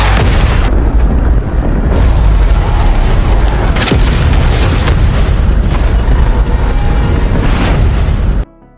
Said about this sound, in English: the airstrike finally arrives and neutralizes the RPGs